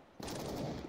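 A bullet striking the player in the Counter-Strike video game: a sudden, close burst of harsh noise that holds for under a second.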